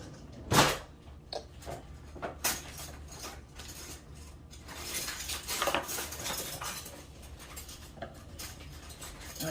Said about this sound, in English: This is not really a knife, cake cutting knife, but I'm using it for one right now.